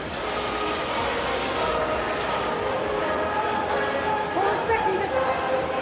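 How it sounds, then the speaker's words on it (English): A Polar Express model train rolls past in a winter-wonderland display at North Park, a continuous rumbling rattle under a busy crowd with people talking nearby. "That's the Polar Express train that's passing by."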